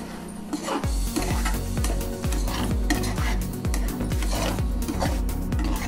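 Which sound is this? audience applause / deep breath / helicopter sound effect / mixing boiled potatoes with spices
mixing boiled potatoes with spices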